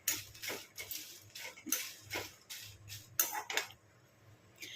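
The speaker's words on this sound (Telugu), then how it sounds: "మిర్చి అయితే వేగుతున్నాయి కదా" About twenty dried red chilies fry in a pan for a village-style tomato chutney, giving off a soft, steady sizzle broken by repeated sharp clinks and scrapes of a utensil against the pan, close and fairly quiet.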